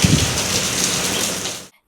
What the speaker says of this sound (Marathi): तर तुम्ही बघितलं असेल की कसा पाऊस पडतोय आमच्या इथे